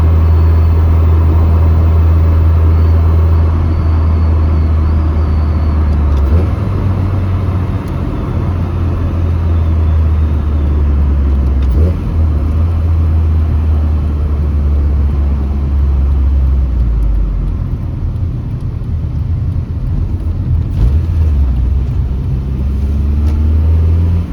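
Hot rod car driving downhill in winter, its engine a steady loud low rumble throughout with a brief shift in pitch around the middle as it downshifts, no talking.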